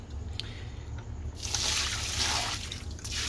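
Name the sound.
pouring out dirty fish tank water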